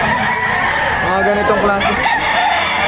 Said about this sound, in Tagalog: araw ng bentahan ng manok dito sa Padre Garcia, Batangas, Livestock Auction Market